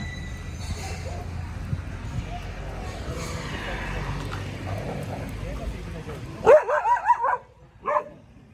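A dog barks in the background during an evening off-leash walk with a Doberman among stray dogs, a short cluster of sharp barks near the end rising over a steady outdoor rumble.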